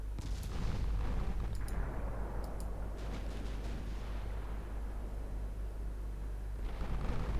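An 8-inch naval gun in a naval strategy game fires on the ship Sperber, giving deep, rumbling booms with a few sharper cracks over a constant low background roar.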